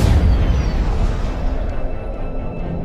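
A huge Big Bang explosion, a loud low rumbling boom that starts hard and rolls on steadily without fading, heard alone.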